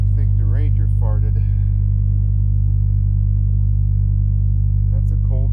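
A Ford Ranger idling after a cold start in snowy weather, a loud steady low engine rumble running throughout while people talk over it.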